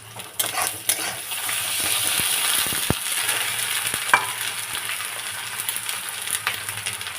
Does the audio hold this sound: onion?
yes